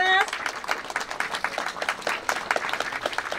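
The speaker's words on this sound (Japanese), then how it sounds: "皆様今一度大きな拍手をお願いいたします。" Crowd applause at the unveiling of a 20th-anniversary monument at the Nango spring baseball camp, dense clapping that carries on briefly after a voice at the start.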